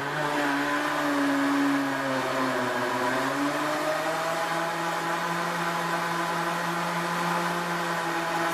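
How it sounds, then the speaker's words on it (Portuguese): A kitchen blender whirs steadily as it blends ice cream and milk for a Kit Kat milkshake, a loud continuous motor drone whose pitch dips briefly and then holds even, with no talking. "Eu vou bater o sorvete aí e o leite para não ficar tão pesado pro liquidificador"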